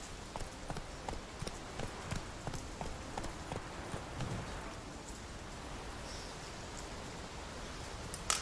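Roach the horse trots in The Witcher 3 video game, with a steady run of quiet, rhythmic hoof clops over a soft, hissing rain-like ambience.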